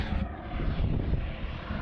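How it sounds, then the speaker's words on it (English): A fixed-wing airplane flies overhead near a beach by an old jetty, its engine a loud, steady, broad rumble that fills the whole stretch without pause. "Some planes and helicopters flying over top."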